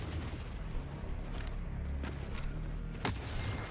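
Enemy units in Forever Winter fire in a dense, continuous wash of distant battle noise, with occasional sharper shots standing out from the rumble.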